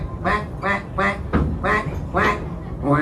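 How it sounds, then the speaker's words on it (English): Loud, close duck quacks repeat in a steady run of five or six nasal calls aboard a moving train ride at a theme park. "All right, who stepped on a duck?"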